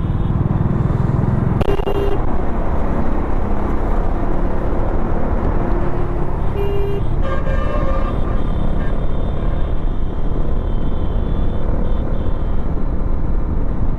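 Steady, dense road traffic at the Faridabad toll plaza in Haryana, with a continuous rumble of car and truck engines close by and a few brief tonal horn-like blasts rising above it.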